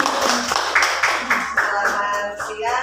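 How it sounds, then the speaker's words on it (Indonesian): Group applause closing a school staff session at an elementary school in Demak, Indonesia: dense, steady clapping throughout, with a few voices rising near the end. "Tepuk tangan untuk kita semua."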